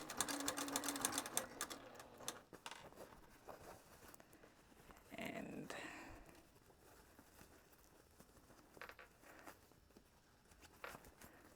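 A straight stitch sewing machine sews a cotton pouch, with fast rattling bursts of stitching up close, then quieter pauses broken by light handling noises.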